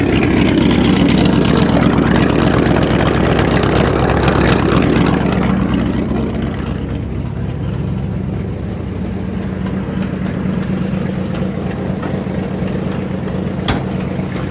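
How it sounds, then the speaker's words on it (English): A truck engine with a severe exhaust leak runs steadily nearby, a loud, continuous low rumble and rattle that is heaviest in the first five seconds, then settles slightly quieter. "This thing has an aggressive exhaust leak"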